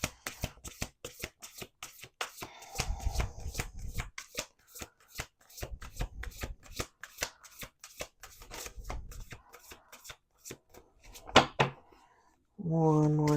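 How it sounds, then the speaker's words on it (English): Playing cards are shuffled again and again, with a dense run of crisp riffling flicks and soft thumps as the deck is squared, steady and close. A voice starts speaking near the end. "Let's do 2 more shuffles."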